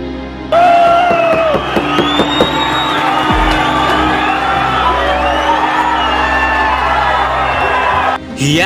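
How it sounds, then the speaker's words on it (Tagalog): A crowd at a boxing match in Australia whoops, cheers and shouts in a loud, sustained roar for several seconds, with individual yells rising above the mass before it cuts off. "Hiyawan ng mga tao sa bansang Australia dahil sa husay ng Pinoy na nagbigay ng entertainment sa kanila."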